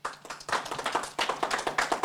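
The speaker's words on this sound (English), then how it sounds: "Can we give both of our panelists a big round of applause?" Audience applause for two panelists at a skills-first future-of-work conference session, a dense burst of many hands clapping that swells to full strength within half a second and carries on steadily, fairly close and loud.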